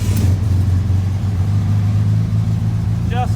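A 1967 Volkswagen Beetle engine runs nearby with a loud, steady low rumble and a constant idle throb, while a short voice-like chirp comes in near the end.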